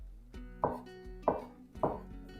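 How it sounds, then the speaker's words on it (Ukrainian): A knife chops a boiled egg into small cubes on a board three times in a slow, even rhythm, each soft thunk clear against a quiet background. "І також невеликим кубиком наріжу яйце."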